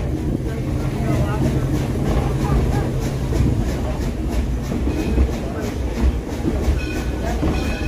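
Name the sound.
historic train running at Greenfield Village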